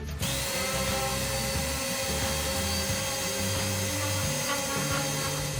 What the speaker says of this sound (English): We're going to go ahead and give these a quick sand, get some of those splinters and things off